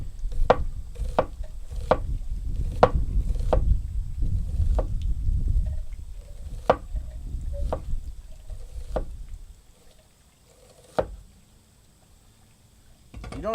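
Knife slicing through an onion on a cutting board for a Greek cucumber salad, a run of sharp regular chops close up, falling silent partway through before one last cut.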